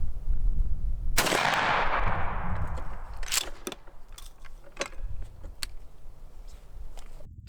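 A Mossberg 500 20 gauge shotgun fired with a turkey load, a single sharp blast early on that rings out and decays, followed by scattered clicks and handling noises nearby.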